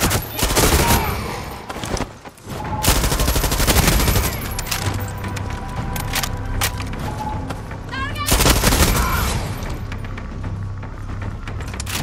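Gunfire in the video game Far Cry 6: loud, dense bursts of automatic fire and rapid shots nearly continuous over twelve seconds, with brief lulls, booming thuds and faint voices beneath.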